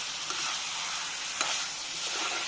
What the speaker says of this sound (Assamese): জুইটো মিডিয়াম ল'তে ৰাখি মই ভাজি থাকিম।